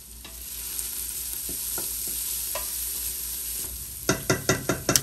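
Red tomato sauce with garlic sizzles steadily in a pan, broken by occasional scrapes, then a quick series of five or six loud stirring knocks and scrapes near the end, close and with no voices.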